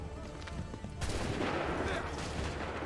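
A musket volley fired by a line of soldiers in Assassin's Creed, a sudden loud burst of massed gunfire that crackles and rolls on after the first second, heard over quieter battlefield noise and shouted commands.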